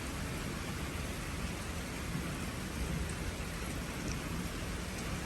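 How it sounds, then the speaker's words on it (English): A light rain shower in Waskom, Texas falls steadily, a dense even hiss of drops on surfaces with no voices. "A little shower. We need some rain."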